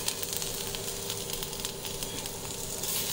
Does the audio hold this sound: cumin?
yes